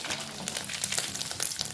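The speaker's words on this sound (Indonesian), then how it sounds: "Hati-hati kalau menggoreng ikan teri." Anchovies frying in hot oil in a pan give a dense, steady crackling sizzle with scattered pops, close and moderately loud, with no talking over it.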